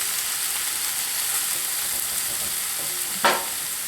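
Onion and garlic frying in a pan, a steady, even sizzle throughout with a brief stir or scrape near the end, no voices.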